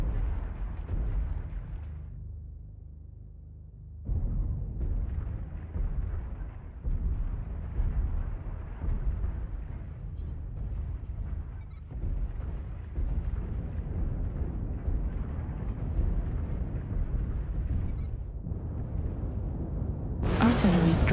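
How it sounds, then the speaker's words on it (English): Deep, rumbling artillery and airstrike blasts from a video game roll on almost continuously, with a brief quieter gap early on and a sharp loud burst near the end, under occasional game voice lines. "Artillery strike online."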